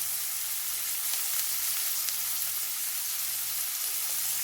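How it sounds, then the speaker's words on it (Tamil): Chopped onions with salt sizzle steadily in a hot pan, a continuous bright frying hiss with faint stirring and no talk over it. "நல்லா வதங்கட்டும் வெங்காயம்"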